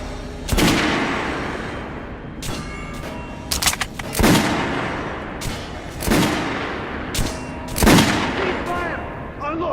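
Gunfire in Metro Last Light rings out as a series of sharp, loud shots spaced about a second or two apart, each with a booming echo that trails off, with some faint background voices.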